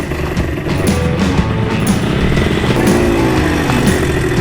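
A very small, fast street-legal motorcycle engine drones steadily and loudly throughout, revving slightly as it rides along close by.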